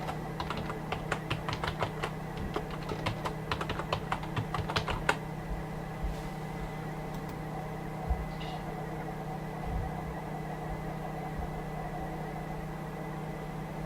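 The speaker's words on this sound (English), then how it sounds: "And then we'll put a password in." Typing on a computer keyboard while entering a password during an Ubuntu 18.04 installation, a quick run of close, crisp key clicks over the first five seconds, then a steady machine hum with a few isolated taps.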